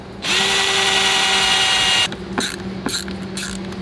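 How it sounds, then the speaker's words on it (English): A power drill whirs loudly at steady speed for about two seconds while drilling pilot holes to mount an RV backup camera, then stops, followed by a few clicks and short bursts of handling noise. "and then I'll line these up and drill them"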